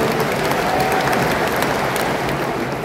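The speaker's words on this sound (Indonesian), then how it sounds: "Mari kita beri tepuk tangan bersama untuk ketiga" An audience claps for three bishops, a dense even rattle of many hands kept up steadily throughout at a moderate distance.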